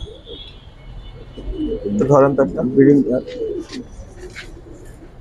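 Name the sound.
pigeons cooing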